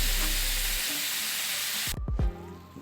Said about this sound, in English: Now you throw that steak down. Fry it up nice.